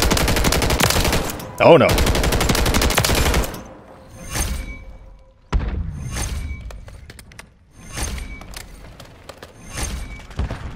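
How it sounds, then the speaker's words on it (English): Light machine gun firing in the video game Modern Warfare 3, a long loud rapid burst up front, then scattered shots and bursts with gaps between them, and a voice briefly exclaiming. "Taking on snipers with a light machine gun"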